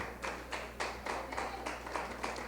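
Church congregation applauding during an evening Spanish-language sermon, a steady patter of many hands clapping with rhythmic swells, fairly close and alone without talk.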